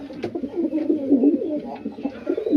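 A female fancy pigeon coos in soft, rolling, repeated calls close by, with a few louder swells and no talking over it.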